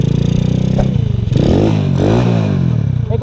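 A motorcycle with a slipping clutch idles and revs close by, the engine note rising and falling in pitch over a steady mechanical clatter.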